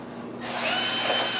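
A power drill whirs up from a low hum to a loud, steady high-pitched whine, close by and sustained, during assembly of a Razor Power Core E100 electric hub motor scooter.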